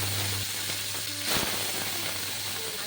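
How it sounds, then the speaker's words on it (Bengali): Small mourala fish fry in a wok of hot white oil, a steady sizzling hiss with a brief louder crackle as the fish go in, heard close with no talking. "তেলটা গরম হয়ে গেছে আমি মাছগুলো দিয়ে দিচ্ছি"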